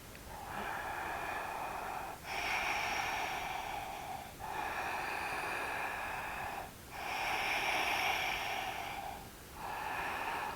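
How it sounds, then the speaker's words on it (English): Slow breathing during a gentle yoga leg lift: long, airy inhales and exhales in a steady rhythm, close and moderately loud, with no speech. "And I'm going to breathe."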